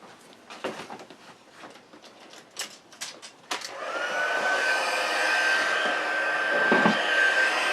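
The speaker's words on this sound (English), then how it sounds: "then let me bring in my heat tool" An embossing heat tool starts up after a few light taps and rustles, then blows hot air in a loud, steady whoosh with a faint high whine, running continuously close by while gold card embossing is done.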